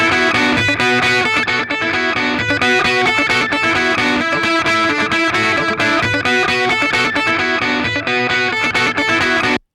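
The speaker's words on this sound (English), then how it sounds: "So I would go back to that triode type distortion." An electric guitar plays through a Thermionic Culture Vulture set to triode-type distortion, a dense, continuous, loud and warmly saturated riff with steady rhythmic chords throughout, ending abruptly, with no talking.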